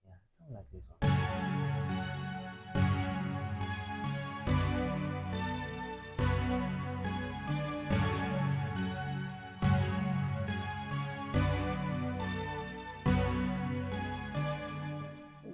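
Piano chords programmed in FL Studio play a bouncy Simpsons-style melody, with evenly spaced chord strikes and ringing sustain repeating for about fifteen seconds, clear and alone without talk.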